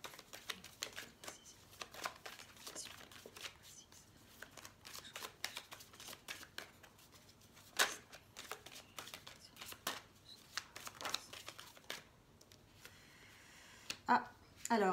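Oracle cards shuffled by hand in a quiet room, producing soft, irregular riffling and tapping clicks with brief louder snaps, fairly close and low in level.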